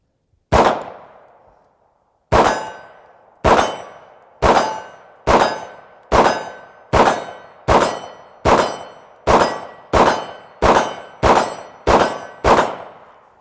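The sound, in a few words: Beretta M9 pistol shots hitting steel targets at 25 yards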